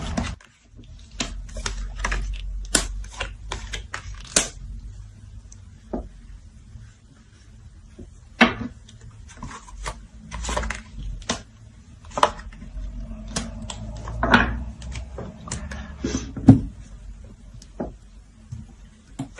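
Playing cards are shuffled by hand in a quiet room, with a series of short, crisp riffling and tapping sounds in irregular bursts, close to the listener and fairly soft.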